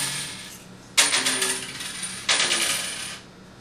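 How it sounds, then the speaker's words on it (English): Gold coins dropping as they are counted, two distinct bursts of bright metallic clinking, each a quick cascade of jingling coins settling, close and clear with no voices. "would just sit there and count his coins"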